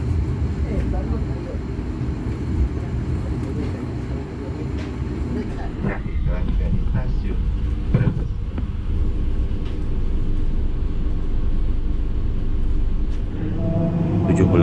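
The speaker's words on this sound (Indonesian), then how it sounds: "2 menit kemudian kereta kita diberangkatkan kembali dari stasiun Tegal." Gunung Jati passenger train pulling out of Tegal station, a steady low rumble and rolling noise from on board that gradually shifts in tone, with faint voices underneath.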